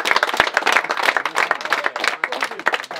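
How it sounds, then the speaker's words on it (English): A small group clapping and applauding at a shooting competition on a ranch, distinct individual claps in a quick, uneven rhythm, close and fairly loud, with no voices over them. "Can I get a big round of applause to Gunner?"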